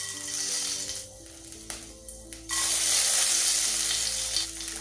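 Panch phoron spices hit shallow hot oil for a Bangladeshi tamarind sour dish, giving a loud, steady sizzle and frying crackle with a few stirring clinks and a brief dip midway before it surges back even stronger.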